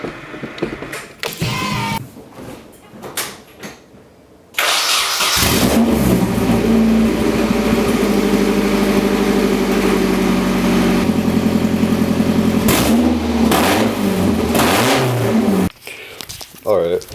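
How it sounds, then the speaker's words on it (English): A Nissan 240SX engine with no exhaust cranks, catches and revs hard with a raw, loud roar, then settles before cutting out; close by. "It has no exhaust on it. I'm gonna see if I can start it real quick."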